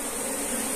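A swarm of Africanized honey bees hums in a dense, continuous buzz, close and steady, in a very brief moment.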